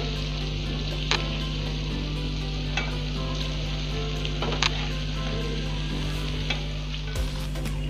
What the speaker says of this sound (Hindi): अब हम इसमें हमने जो दाल और चावल पका के लिए थे वो डाल देते हैं।